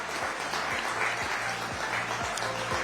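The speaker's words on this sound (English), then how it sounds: "round of applause for Finance Minister Nirmala Sitharaman" A conference hall audience at a Times Now summit applauds the finance minister, steady continuous clapping from many hands filling the room at moderate volume.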